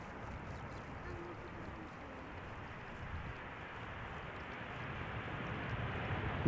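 A KLM Boeing 737-700 arriving at Amsterdam Schiphol Airport, heard as a faint, steady distant jet roar that swells slightly toward the end.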